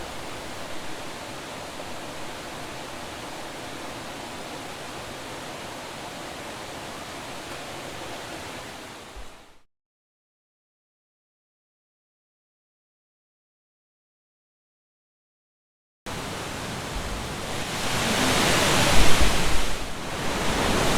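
Steady, broad rushing of the Kannon waterfall in Japan that cuts to silence partway through, then returns slightly louder and fuller.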